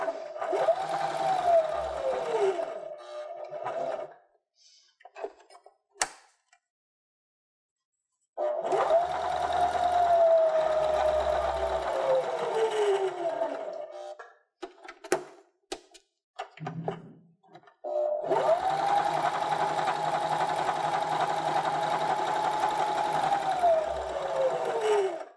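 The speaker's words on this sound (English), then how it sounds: "And then continue sewing, and then you can sew all the way to the top" A sewing machine stitches a fabric sunglasses case in three long runs of steady whirring, separated by pauses with soft handling clicks and thumps.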